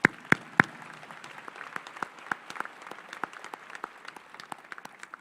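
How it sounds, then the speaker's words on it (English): A round of applause at a medical school white coat ceremony: scattered, uneven claps from a modest audience, a few sharp loud ones at the start, then lighter clapping that continues steadily on its own. "Let's give them a round of applause."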